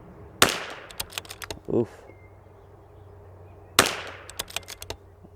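Two sharp .22LR rifle shots with ELEY match ammunition, spaced about three seconds apart with short echoes and clicks after each, and a brief grunt from a nearby person.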